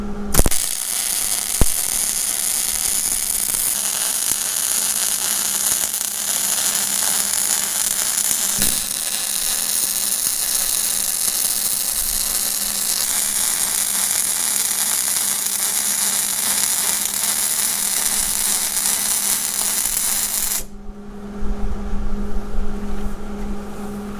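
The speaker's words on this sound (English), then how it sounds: "and then weld them in place." Continuous arc welding of steel blocks onto a Caterpillar D2 bulldozer bumper, a steady loud crackling buzz holding for about twenty seconds before cutting off, with some clanking afterward.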